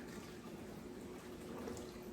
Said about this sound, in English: Hot water going in.